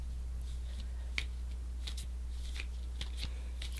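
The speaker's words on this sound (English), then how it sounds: "3 tarot cards for you. And while I'm shuffling" Tarot cards being shuffled in soft, scattered riffles and light flicks, quiet and close over a steady low electrical hum, with no voice during the shuffling.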